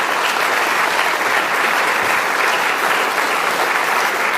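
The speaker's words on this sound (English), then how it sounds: "Give him a round of applause." A crowd applauds steadily at a Teacher of the Year ceremony, a dense wash of clapping sustained at constant loudness throughout.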